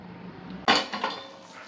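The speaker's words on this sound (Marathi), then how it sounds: "झाकण ठेवूया त्याच्यावर।" A metal lid is set onto a cooking pot of shellfish curry with a single sharp clank, followed by a brief rattle as it settles, loud and close in a quiet kitchen.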